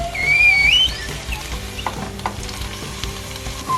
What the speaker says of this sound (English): We want the tofu to stop like that squealing sound